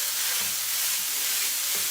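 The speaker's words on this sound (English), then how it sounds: "I'm going to start by browning my meat, place it in a medium temperature, and start breaking it apart" Ground meat browning and being broken apart in a pan over medium heat for spicy spaghetti, giving a steady, close, even sizzle with a few soft stirring scrapes.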